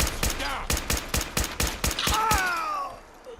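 Rapid automatic gunfire in Fallout 4, about a dozen sharp evenly spaced shots in quick succession, loud and close, followed by a ringing tail and fading debris.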